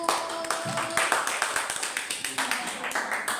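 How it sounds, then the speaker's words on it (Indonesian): A small group claps for a presenting team in a classroom setting, a scattered burst of handclaps with sharp, uneven strikes lasting a few seconds, with faint voices underneath. "Tepuk tangan untuk kelompok 1"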